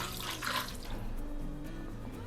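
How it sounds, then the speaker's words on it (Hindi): Water is poured into a pressure cooker holding mutton chops, a short splashing pour heard fairly quietly, with no talk. "ये 1 कप पानी का डाल रहे हैं"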